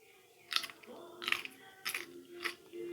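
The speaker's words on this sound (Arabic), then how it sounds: "هسمعك صوت قرمشة الجزر" Four sharp, crisp crunches come from biting and chewing a crunchy pickled carrot, spaced about half a second apart. They sound close and fairly quiet, with no talking.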